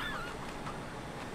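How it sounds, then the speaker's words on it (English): Chickens in the video game Endling cluck and honk faintly in a short burst over a steady background hiss. "I hear chickens."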